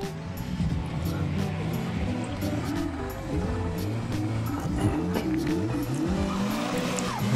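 A turbocharged Mazda Miata drifts at a car show, its engine revving hard with rising and falling pitch while tires squeal and skid nearby, loud and continuous, with crowd voices underneath.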